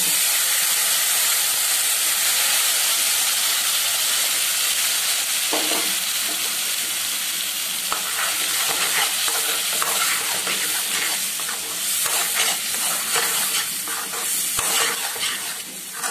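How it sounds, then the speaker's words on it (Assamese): Batter poured into a hot pan after the gas flame is switched off, giving a steady, loud sizzling hiss with scattered crackles and stirring clicks that build toward the end. "দি পেলাই এই বেটাৰটো ইয়াত ঢালি দিম"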